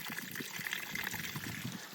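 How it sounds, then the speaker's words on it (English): Water from a garden hose trickles and burbles softly into a dry stream bed soakaway, a faint, continuous gentle flow with no voices. "you can hear the water going into the soakaway, which is perfect."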